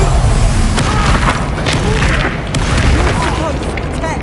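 A Confringo fire spell blasts in Hogwarts Legacy, making a loud, dense booming roar that runs through the whole clip with crackling bursts and rumble, and voices mixed in under the noise.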